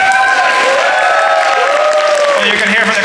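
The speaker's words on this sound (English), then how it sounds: "you can hear from the crowd reaction" A crowd at a gaming expo applauds and cheers in a dense, loud, continuous wash of clapping and voices that fills the short stretch.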